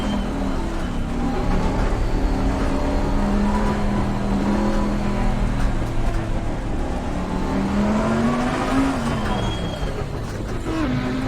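Race car driven on a slippery wet circuit with wet tyres in the racing game Assetto Corsa Competizione; a steady, loud engine drone rises and falls in pitch as it revs, continuous throughout with no speech.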